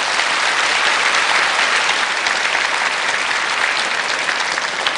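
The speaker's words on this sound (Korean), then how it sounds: "여러분 환희의 박수 부탁드립니다." Dense, steady applause from a large studio audience at a Korean lecture-show taping, loud and continuous throughout without pause.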